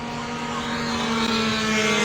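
Production Lambretta stock scooters race at Lydden Hill, one steady loud two-stroke engine drone with a sustained high whine passing close by, continuous for the whole moment without speech.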